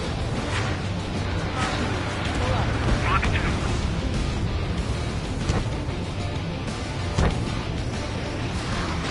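A target explodes in the jet combat game Ace Combat, a dense rumbling blast with crackling debris under steady engine roar, mixed with voices talking throughout.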